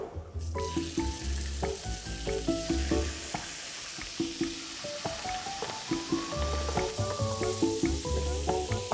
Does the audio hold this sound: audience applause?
no